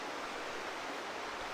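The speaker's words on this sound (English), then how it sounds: "Twin waterfalls coming over the mountain into this stream" Twin mountain waterfalls pour into a stream, giving a dense, constant broadband rush of falling water, close and loud, with no voices.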